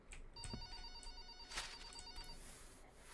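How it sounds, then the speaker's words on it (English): Telephone ringing in a house during cleaning: a faint electronic ring tone repeats in short bursts over a constant background hiss, with no one talking. "I don't care about the phone ringing or anything"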